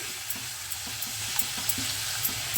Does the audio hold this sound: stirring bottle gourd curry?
yes